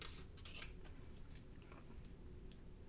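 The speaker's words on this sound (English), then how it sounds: "we're going to trim very close to the blank, especially on the sides" Scissors snip sublimation paper close around an earring blank, giving a few quick, faint, close-up cuts over a low background hum.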